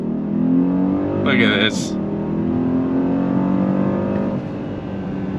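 Engine of a 2024 Mercedes Maybach GLS 600 pulling under throttle, a loud, steady low drone heard from inside the cabin, with someone talking briefly over it.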